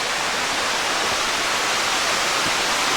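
Steady, full rush of falling water from Jonathan Run Falls in Ohiopyle State Park, a dense broadband roar that stays constant and fairly loud throughout, with no voices.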